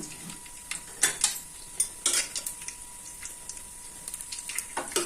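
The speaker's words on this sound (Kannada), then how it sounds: "ಸಾಸಿವೆ ಈಗ ಚಿಟಪಟ ಅಂತ ಸಿಗುತ್ತಾ ಇದೆ" Mustard seeds spluttering in hot oil for vegetable sambar, scattered sharp pops and crackles over a faint sizzle, with light utensil clinks nearby, fairly soft overall.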